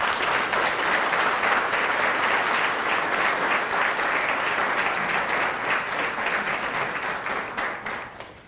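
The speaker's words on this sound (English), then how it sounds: "Please give them another round of applause." Sustained audience applause fills a recognition ceremony hall, dense and steady for several seconds before thinning and fading out at the end.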